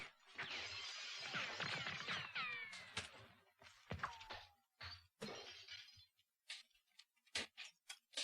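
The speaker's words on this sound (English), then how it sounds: "where you have a lot of wanton destruction of glass and a lot of squib hits" Real glass shatters repeatedly amid squib hits in a 1976 film action scene, a loud dense run of crashing, tinkling breakage for the first few seconds, then scattered sharp impacts and falling shards.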